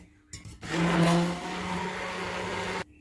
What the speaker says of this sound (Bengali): আবার ব্লেন্ড করে নেব।